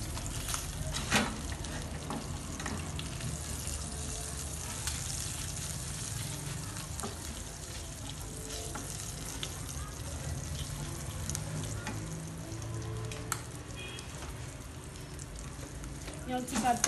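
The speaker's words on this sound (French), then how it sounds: "On tire l'huile tout petit. On met un petit pâte de tomate." Tomato paste frying in a little olive oil in a pan, a steady low sizzle that runs throughout with faint clinks of stirring.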